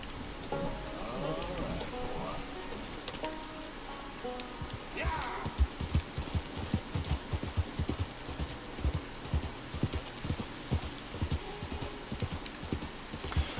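Horse hooves clip-clop steadily in Red Dead Redemption 2, a rhythmic run of close, distinct hoofbeats over a busy ambient bed, with a voice talking intermittently.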